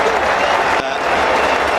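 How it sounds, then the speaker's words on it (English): A cricket crowd at AMI Stadium stands and applauds a batsman walking off after a long innings, loud, dense, sustained clapping filling the stadium without a break. "we'll just let this crowd stand and applaud"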